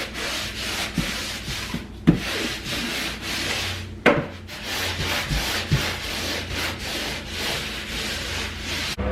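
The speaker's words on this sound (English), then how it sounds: "I'm going to start sanding" A kitchen wall being sanded by hand, steady rasping strokes rubbing back and forth in a rhythmic pattern with brief pauses between passes, close and fairly loud with no talking.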